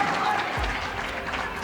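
An audience at a high school quiz semifinal claps in a dense, steady burst of applause for a contestant, with a voice over the clapping.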